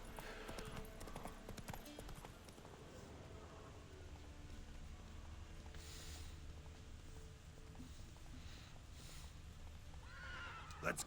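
Roach the horse from The Witcher 3 neighs and whinnies while hooves clip-clop steadily throughout, with a final louder burst of whinnying near the end, set against rain-like ambient game noise and a speaking voice.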